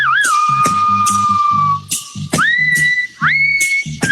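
A sustained whistled melody with sliding pitch rides on top of a reggae dubplate recording, over a steady thumping bass and drum pattern, loud and close with no voice.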